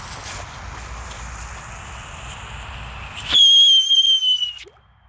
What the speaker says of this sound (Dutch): En dit is dan ook een luchthuiler.